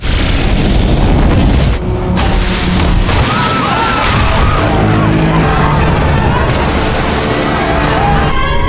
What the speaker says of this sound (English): it unleashed a powerful laser, instantly slicing the ferry in half